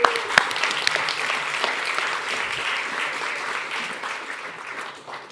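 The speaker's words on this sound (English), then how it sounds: "let's give them a round of applause as they come up" Audience applause at a real estate investor panel event, a dense, steady wash of clapping from a sizable crowd that holds for several seconds without talk.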